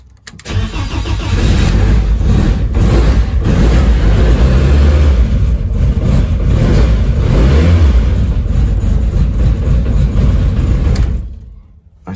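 A BMW E30 rally car engine roars close and loud for about eleven seconds, catching and revving with rough surges and throttle blips before cutting off abruptly.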